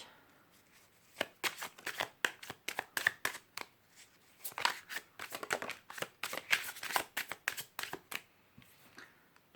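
Playing cards are dealt one by one onto a table, each landing as a crisp snap or slap, in quick irregular bursts with brief pauses, close and fairly quiet.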